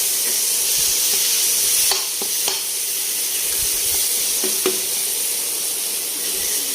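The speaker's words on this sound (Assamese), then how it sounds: "ভালদৰে লৰাই দিম যাতে সকলোখিনিতে নিমখখিনি লাগে" Salted brinjal and fish heads are stirred in a frying pan, a steady close sizzle with occasional scraping knocks of the spatula against the pan and no voices.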